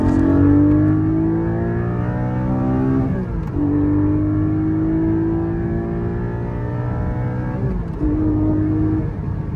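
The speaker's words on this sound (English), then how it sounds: "This is going to be a second gear pull, and then we'll probably hit fourth, and then we'll bat off." Ruby Star Porsche Cayman GT4 pulling hard in second gear, its engine note climbing loudly through two steady rising sweeps with quick shift dips between them, close and continuous with no talk.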